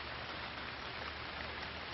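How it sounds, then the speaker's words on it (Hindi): Heavy monsoon downpour in Mumbai, a dense, steady hiss of rain pouring down without break, loud and close with no voices. "मुंबई में मूसलाधार बारिश जारी है।"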